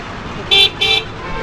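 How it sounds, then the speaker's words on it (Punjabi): Two short car horn toots in quick succession over a low background of traffic with auto rickshaws on a Ludhiana road. "ਪਿੱਛੇ ਹਾਰਨ ਤੇ ਹਾਰਨ ਵੱਜਦੇ ਹੋਣ"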